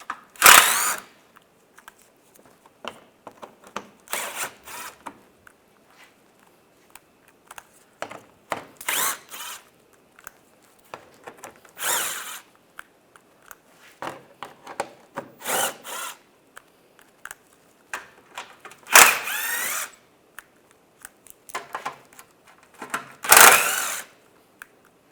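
A power tool with a 10mm socket spins out the bumper cover bolts on a 2014-2019 Toyota Corolla, firing in short whirring bursts separated by quiet pauses, repeated about eight times.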